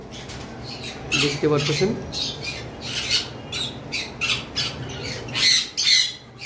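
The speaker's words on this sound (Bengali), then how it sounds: "জাপানিজ রেড আই বাজিগরগুলো রয়েছে, টোটাল তিনটে পিস রয়েছে" Three Japanese red-eye budgerigars squawk in repeated sharp, close bursts, with a voice briefly talking among the calls.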